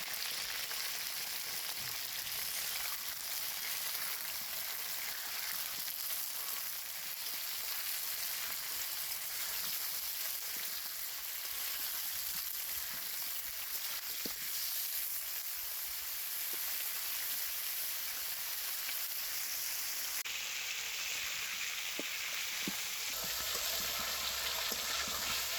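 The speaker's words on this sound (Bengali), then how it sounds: "তেল গরম হয়ে গেছে, কপি আলুটা দিয়ে দিই।" Cauliflower and potato pieces fry in hot oil, giving a continuous dense sizzle that holds steady for a long stretch, with a few sharper crackles and a shift in tone near the end.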